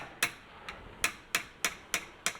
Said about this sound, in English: I got the big hammer on the back side to absorb some of the shock there.